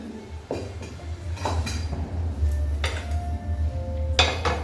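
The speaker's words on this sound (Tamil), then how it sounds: "தோசை அடுப்பில் வைப்போம்." A pan being handled on a stove while preparing dosa: several metallic clanks and scrapes at uneven intervals over a steady low hum, close by, no talking.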